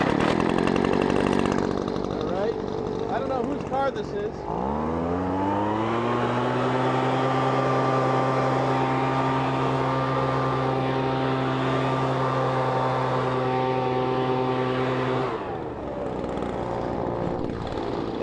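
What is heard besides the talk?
leaf blower blowing light fluffy snow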